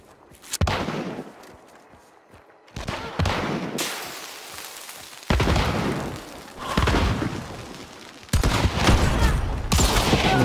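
Video game shotgun fire, with repeated loud booming blasts and bursts of gunfire that come in uneven clusters, some sharp and close, over a noisy background.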